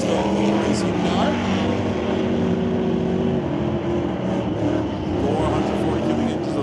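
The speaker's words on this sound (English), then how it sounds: "440 cubic inches of low power motor on both sides of the racetrack" Drag racing cars with 440 cubic inch engines at Mission Raceway Park roar steadily and loudly throughout a West Coast Outlaw Shootout run, under continuous announcer commentary.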